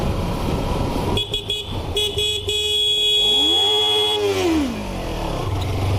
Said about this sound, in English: I love the honking.